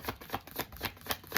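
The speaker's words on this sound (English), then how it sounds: "I'm going to give it one more shuffle." A deck of tarot cards is shuffled in quick, rhythmic riffling bursts, close and crisp, with no voice over it.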